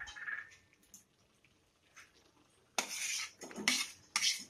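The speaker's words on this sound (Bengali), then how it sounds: "এটাকে ভালো করে নাড়িয়ে এর মধ্যে চিংড়ি মাছ পুরোটাই দিয়ে দেব" Prawns being stirred into gravy in a pan for masala palang chingri, heard as a few metal spoon clinks and scrapes against cookware, mostly quiet with louder clattering bursts near the end.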